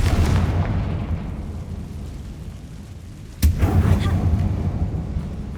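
Confringo blasting spell in Hogwarts Legacy inside an abandoned mine that looks like a tomb, with one sharp, loud explosive burst midway followed by a rumbling low tail over steady background noise.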